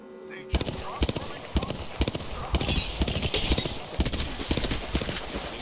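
Gunfire in Apex Legends comes as a series of sharp, evenly spaced shots, loud and close, with game noise underneath and some talk mixed in.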